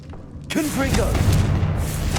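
A Confringo spell blast in Hogwarts Legacy on PS5, a sudden booming burst that rumbles on briefly, with a voice calling out over it.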